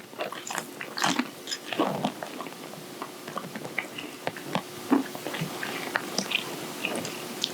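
Someone bites into crunchy vegan chick'n at a soul food breakfast, giving close, irregular crunching and chewing with soft wet squishes over several seconds, no talk.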